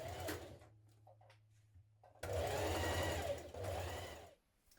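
A sewing machine stitches a dress seam with a 1.5 centimetre allowance. A soft low hum and a few clicks give way to two loud, steady bursts of rapid needle chatter, close by.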